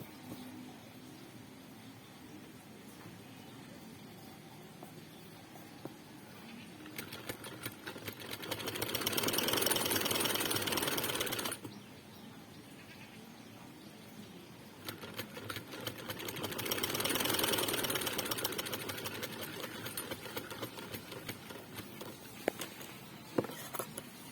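A sewing machine stitches the flared hem of a kameez in two bursts of close, moderately loud whirring, each lasting several seconds, separated by quieter pauses with faint handling noise.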